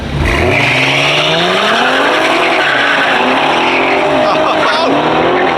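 A Cadillac ATS-V launches hard down a drag strip, its loud engine revving up through rising gear pulls with tire squeal, close and continuous, while voices shout over it.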